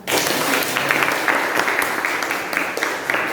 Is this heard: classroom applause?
yes